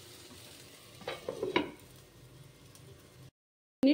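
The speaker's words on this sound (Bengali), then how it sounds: "এবার ভালোভাবে নাড়াচাড়া করে আমি একটা ঢাকা দিয়ে 2-3 মিনিট রেখে দেব" A spatula stirs fried okra dopiaza in a pan, a few scraping strokes over a soft sizzle, then a brief silence and a sudden loud clatter at the end.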